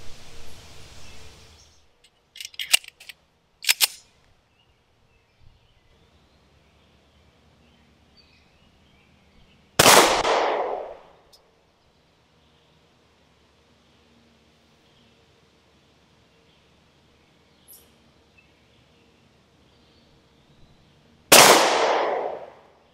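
Two loud, sharp RIA 10mm Ultra FS pistol shots fired at a target from 50 feet, spaced well apart with quiet between them, plus a few faint clicks and handling noises early on.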